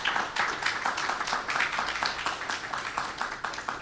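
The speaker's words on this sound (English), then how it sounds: "Let's give the Nation a round of applause." An audience applauds in a lecture hall, a dense, steady patter of many hands clapping together, moderately loud and sustained throughout.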